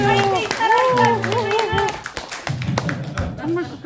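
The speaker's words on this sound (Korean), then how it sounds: "박수 한번." Audience members at a Korean public lecture's question-and-answer session clap together, a burst of hand claps that follows voices calling out and cheering, with talking continuing over the claps.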